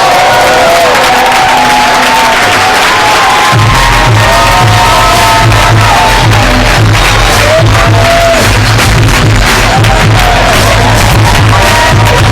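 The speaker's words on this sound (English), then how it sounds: "Can you guys help me give a warm round of applause for David Lynn?" A large event crowd claps, cheers and whoops loudly and continuously, with shouts rising above the ovation and a deep bass thump of music underneath.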